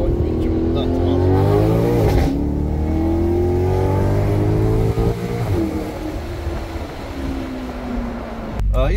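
Maserati GranCabrio Sport engine accelerating hard, a loud rising rev from inside the car with a gear shift partway through, as someone talks over it.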